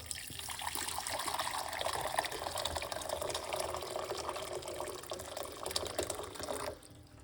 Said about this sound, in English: And then we're going to pour 1 cup of hot water.